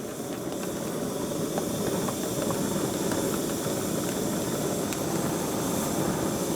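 An open fire roars steadily while a glass bottle melts in it: a close, continuous, rushing hiss and low rumble that holds an even loudness throughout, with no voices.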